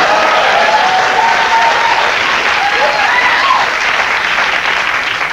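A late-night talk-show studio audience breaks into loud, sustained applause that holds steady throughout, and voices briefly show through the clapping.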